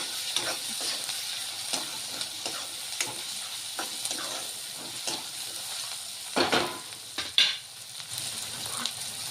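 Chopped tomato cooking in a pan for a Marathi dill-leaf vegetable dish, with a quiet continuous sizzle and hiss punctuated by light ticks and a few louder stirring clatters near the end.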